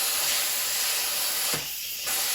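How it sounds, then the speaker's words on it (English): Instant Pot pressure cooker doing a quick release, steam venting in a loud continuous roaring hiss that dips briefly and then surges again, close and alone. "This is the Instapot is releasing. That's the quick release."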